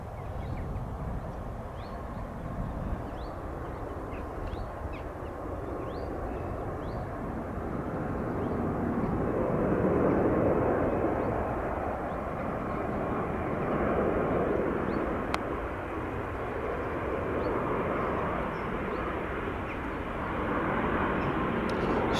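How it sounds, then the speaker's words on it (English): A plane passes overhead during a countryside footpath walk, its broad engine roar building over several seconds and holding steady before slowly easing, with no talk heard. "Just waiting for another plane now."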